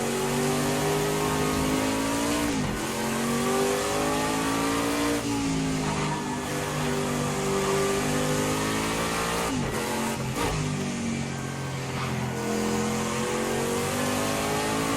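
Prototype C race cars in the Project CARS 2 racing game, in a US championship round, lap slower back markers. Engines rev and shift repeatedly in close, continuous succession, with no talking.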